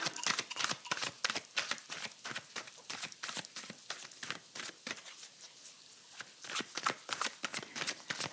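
Tarot cards being shuffled, a close, rapid series of crisp riffling flutters and soft slaps in irregular bursts, with a brief quieter lull partway through and no talk.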